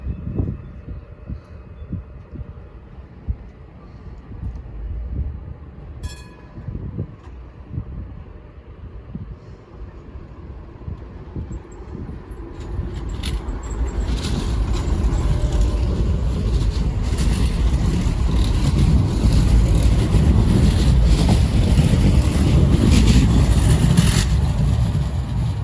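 Tram 106 pulls away from the Meadowhall station platform, its rumbling motor noise building steadily and swelling into a loud, sustained roar mixed with wind buffeting the microphone.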